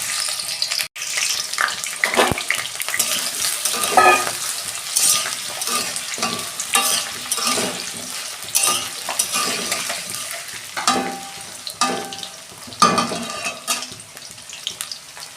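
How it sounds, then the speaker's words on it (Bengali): Potato pieces frying in hot oil in a kadai for a soybean curry, a steady loud sizzle with stirring scrapes and clinks of the pan running throughout, no talk. "তেল গরম হয়ে গেছে, আলুটা দিয়ে দিচ্ছি।"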